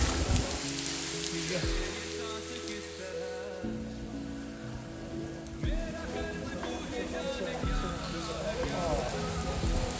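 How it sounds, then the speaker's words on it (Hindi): Heavy monsoon rain pours at the Rin Mukteshwar temple in Ujjain, a dense hiss of drops on wet surfaces, with someone talking over it and other sounds mixed in. "बारिश हो रही है,"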